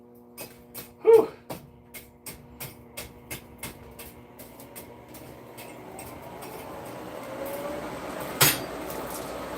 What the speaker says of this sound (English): this is my 8-pound hammer. It's just a sledgehammer that I cut off so I can actually swing it